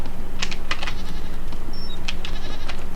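Several brief goat bleats from the game Raft come in scattered bursts over a constant low background hum, with no speech.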